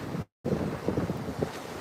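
Ocean waves breaking near Lovers Rock on the coast, a continuous rough wash of surf heavily buffeted by wind noise on the microphone, with a brief dropout.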